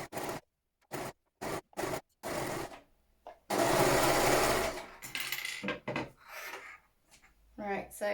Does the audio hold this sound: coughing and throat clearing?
no